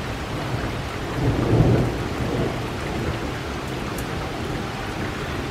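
During a severe thunderstorm in Independence, Missouri, a low thunder rumble swells and fades over steady rain pattering on surfaces nearby.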